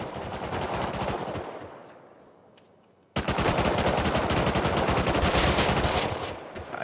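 Rapid automatic gunfire in a PS5 raid-defense video game, dense overlapping bursts that fade to a quieter tail, then cut back in abruptly at full loudness and continue steadily, with no talking.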